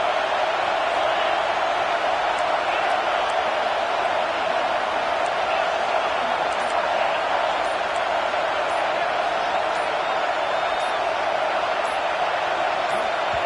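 A stadium crowd in a college football video game, Auburn against Alabama, roars as one steady, loud, unbroken wash of noise that holds without pause for over ten seconds.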